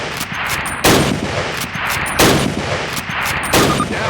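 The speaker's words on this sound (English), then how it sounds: "Grab up a Springfield rifle from the table, switching it for your carbine. Turn to the left, move to the fence, and fire 2 rounds at your target." Springfield rifle shots in the video game Call of Duty, three loud, sharp cracks spaced over a second apart, each rising above dense, continuous gunfire and battle noise.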